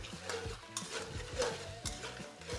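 Pork stir-frying in a wok with brown garlic sauce and toasted sesame seeds, a steady sizzle broken by repeated scraping strokes of a spatula against the pan, moderately loud and close with no talking.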